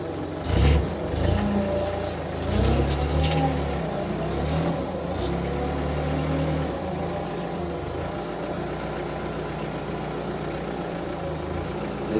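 Hyster H65XM 6,500 lb diesel forklift driving, its low engine rumble steady and close with a few brief revs early on, then settling into an even drone.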